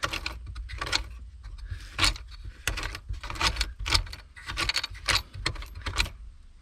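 Loose coins and small metal items jingle and clatter in irregular bursts as a hand rummages through a storage compartment of a Dodge Omni from its last production year, close up with no talking.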